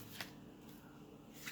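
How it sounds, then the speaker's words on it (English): Quiet riffling of tarot cards being shuffled, with two soft bursts of flicking near the start and end over faint background hum. "I'm going to focus on my question while I shuffle the cards."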